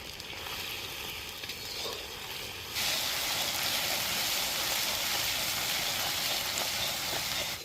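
Ginger and cumin paste with salt hitting hot oil and garlic in a pan, starting as a soft frying hiss that jumps into a louder, steady sizzle about a third of the way in.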